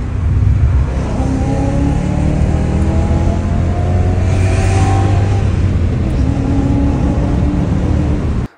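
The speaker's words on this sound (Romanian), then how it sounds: "să vă las acum un clip să vedeți cum sună mașina" A BMW 7 Series engine runs continuously with a loud, steady low drone and a slight revving swell midway, close to the microphone with no talk over it.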